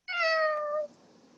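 A black cat gives a single clear, drawn-out meow of under a second in a radio drama, close and prominent, tapering off into a faint background hush.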